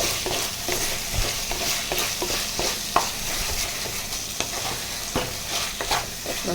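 Tomato mixture stirred in a clay pot, close scraping strokes in an irregular rhythm over a soft continuous sizzle, with no talking.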